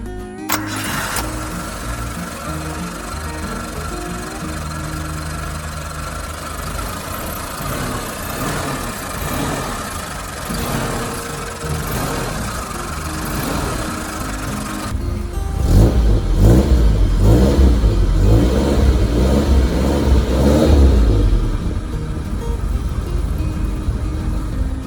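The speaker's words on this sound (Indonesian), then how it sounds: "Oke, ini ada mesin Katana kubikasi 1000 cc, 50 PS dan 78 Nm." A 2001 Suzuki Katana's 1000 cc engine cranks and starts, then idles steadily before a louder stretch of repeated revving, heard close up without speech.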